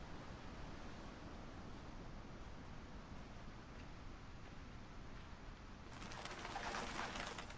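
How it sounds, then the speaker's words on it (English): Pigeons or doves coo in the video game A Quiet Place: The Road Ahead, soft and distant over a hissing ambient bed, ending in a brighter burst of noise. "Oh my god, birds."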